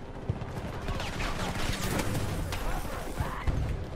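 Rapid gunfire and explosions crackle through a Battlefield 2042 firefight, dense and continuous with sharp bursts throughout, under a faint voice.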